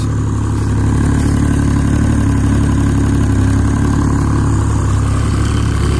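A 1988 Boston Whaler Montauk outboard idles steadily in neutral after gear shifts, a loud, close, even low rumble with no revving.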